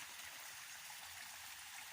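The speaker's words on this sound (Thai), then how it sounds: "ฝนตกหนักขนาดน้ำไหลนะคะ" Heavy rainwater rushing through a forest stream on a rural farm during the rainy season, a steady, fairly faint broadband wash with no voices.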